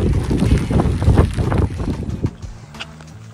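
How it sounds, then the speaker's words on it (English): Strong wind buffets and roars in low gusts on a mountain trail in the Ballyhoura Mountains, Ireland, loud and rough, easing off toward the end. "Oh, it's windy."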